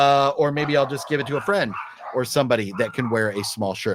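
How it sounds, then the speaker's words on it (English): A dog barks a few times in the background while a person talks steadily in the foreground. "Sorry about the dog barking."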